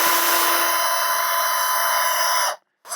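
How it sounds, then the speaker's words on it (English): Close, steady high-pitched whine of a power drill drilling into plastic for a couple of seconds, then stopping briefly before starting again. "So more drilling."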